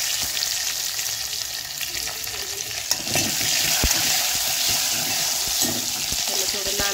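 Green chili and curry leaves sizzle and crackle in hot oil for a dal tadka tempering, a steady close frying hiss with occasional pops and stirring scrapes throughout.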